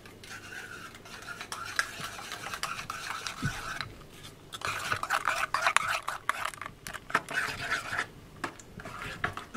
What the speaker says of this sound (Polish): Mieszamy ją raz do rozpuszczenia się